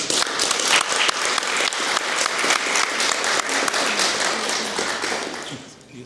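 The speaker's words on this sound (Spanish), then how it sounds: "Un aplauso por favor para ella." An audience applauds a poet at a poetry book presentation, a dense steady wash of many hands clapping for about six seconds before fading out.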